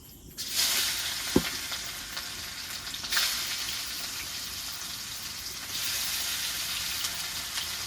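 Chopped onion frying in a pan for a thin meat curry, a steady sizzle starting sharply after a brief quiet moment, with a clink of the stirring spoon and louder surges of hiss as the onion is turned.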